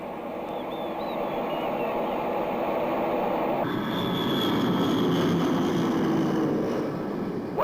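An airliner on its takeoff run gives a loud, steady engine roar that swells and deepens about halfway through, with no voices over it.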